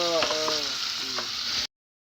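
Chicken sizzles and fries steadily in a pan, a dense, continuous crackle with a few louder spits, heard close up and without talk before it cuts off abruptly.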